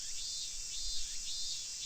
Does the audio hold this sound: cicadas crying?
yes